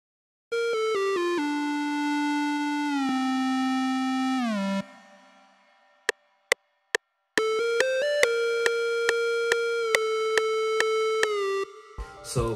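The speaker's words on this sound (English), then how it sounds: "So next we got the lead from the same one shot kit. It's called the Smeowk lead, and it sounds like this." Smeowk synth lead from a one shot kit plays a bright, harmonic-rich melody of sustained, gliding notes, then a few sharp isolated stabs, followed by a steady held line dotted with short bright blips, loud and up close with no voices.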